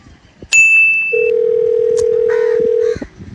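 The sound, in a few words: telephone dial tone while calling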